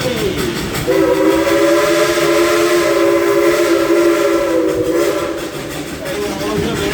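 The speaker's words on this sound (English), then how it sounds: "that's Julie driving the train" Dollywood Express steam train at Dollywood sounding a long, loud steady whistle over the rumble of the moving train, the whistle holding for several seconds before easing off near the end.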